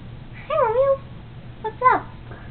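A cat meows twice in an animated movie scene, two short rising-and-falling cries about a second apart, fairly close and clear over a low steady background hum.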